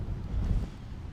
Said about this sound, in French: Bon alors là, beaucoup de vent.